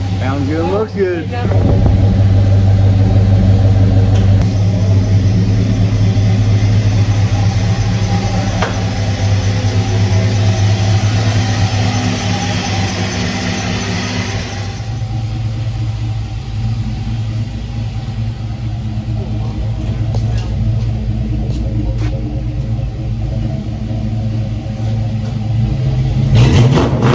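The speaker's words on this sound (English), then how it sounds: "Sounds good under here. That motor's quiet." A Mopar 318 V8 in a 1970 Dodge Sweptline pickup runs through a custom exhaust, its loud, steady rumble close by and rising into brief revs, with people talking over it.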